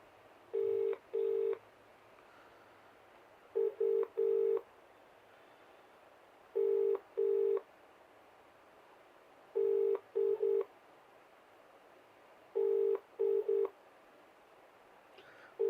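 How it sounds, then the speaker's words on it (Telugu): An outgoing phone call ringing: a steady double-burst ringback tone repeating every few seconds over a faint hiss, clean and close. "ఈ మహిళకు ఫోన్ చేద్దాం, దీని గురించి అసలు ఏమి వివరణ ఇస్తాడో."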